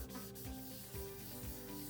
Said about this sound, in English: when you're scrubbing it, what you're actually doing is sanding off a very light layer of plastic